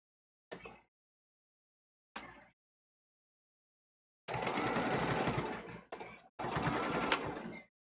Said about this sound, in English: I don't have to specify that I'm gonna use a machine for sewing